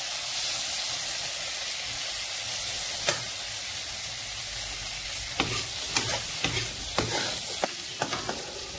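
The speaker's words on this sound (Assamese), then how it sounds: "আলু আৰু ফুলকবি দুইটাই ভাজিব লাগে" Potato and cauliflower pieces sizzle in a pan of hot oil, a steady broad hiss running throughout, broken by sharp scraping clicks from stirring that grow more frequent toward the end.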